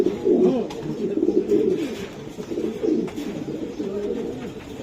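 A Beauty Homer pigeon in a loft calls insistently, repeated throaty coos rolling one after another at close range over faint background noise.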